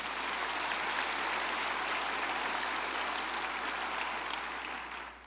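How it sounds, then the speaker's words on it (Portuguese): A church congregation applauds during a communion service, steady, full clapping from many hands that stays loud throughout and tapers slightly at the end. "Dá um aplauso aí ao Senhor."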